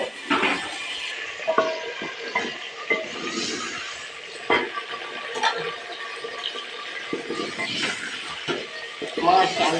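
Potatoes fry in a pan with a soft, steady sizzle, broken by scraping and clinking as they are stirred, close up and moderately loud, with someone talking over the cooking.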